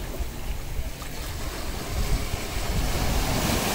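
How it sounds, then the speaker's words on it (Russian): Sea waves washing onto the shore at Tolstyi Mys in Gelendzhik, a steady close surf wash that swells toward the end, mixed with some wind rumble on the microphone. "Вчера здесь были сильные волны, сегодня поменьше."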